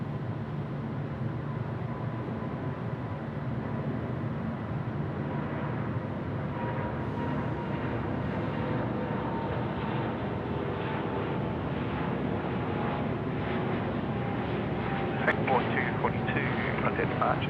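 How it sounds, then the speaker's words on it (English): A Singapore Airlines jet takes off at night at Sydney Airport, giving a steady, broad low roar that holds for the whole stretch at moderate loudness, swelling slightly toward the end. "these next-gen aircraft, the A350s and the 787s, are super quiet on takeoff"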